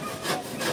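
A hand saw cuts through the wood of a boat being demolished in a short, rasping stroke, moderately near and unaccompanied.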